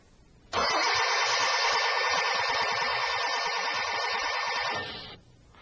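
A car engine cranks on its starter for about four seconds during a starter system test, a steady loud whirring churn that starts abruptly and then cuts off, heard alone.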